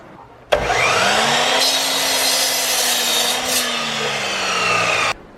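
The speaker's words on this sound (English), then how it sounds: "I can cut that out." Continuous hand sawing through a wood board for a chicken coop door, steady rasping strokes close and loud for about four and a half seconds, no talking.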